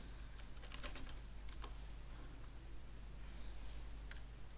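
Someone types a java -jar command on a computer keyboard, producing soft, quick key taps in irregular clusters over a faint steady background hum.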